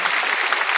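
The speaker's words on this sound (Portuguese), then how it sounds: "Jesus não merece uma salva de palmas?" Applause fills a church as the congregation claps together during a sermon, a dense, steady wash of hands sustained evenly throughout with no voices standing out.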